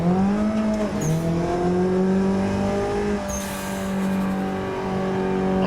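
A car engine revs hard through a drift, pitch rising and dropping as the clutch is kicked, with a sharp rev break near the start and another mid-way, loud and close, with faint tire squeal.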